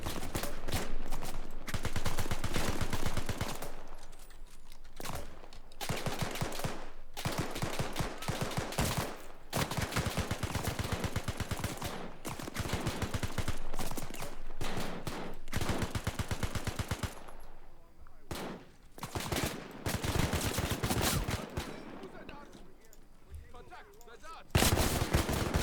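A machine gun fires in long sustained bursts in the WW2 Spearhead 1944 campaign of Arma 3, loud and close, with brief pauses between strings of rapid shots over nearly half a minute.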